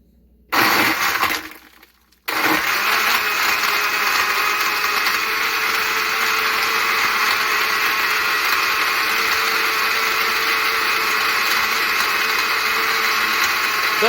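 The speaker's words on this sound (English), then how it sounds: "What is the point of this blender?" A kitchen blender whirs steadily for over ten seconds, loud and constant, after a brief startup burst and a short pause, with no talking over it.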